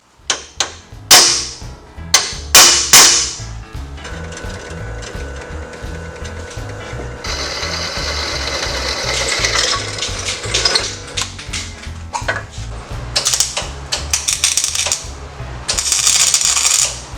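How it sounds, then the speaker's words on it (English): Metal truck seat mounting brackets being drilled in a shop, starting with a few sharp metallic clanks, then a sustained grinding drill whine through the metal that stops and restarts several times, loud and close. "go ahead, drill those."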